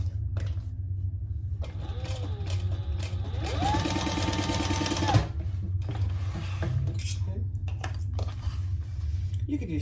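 A sewing machine bastes fabric in place while an enlarged triple sling is being made, running in a steady mechanical whir with a denser burst of stitching midway, set over a constant low background hum.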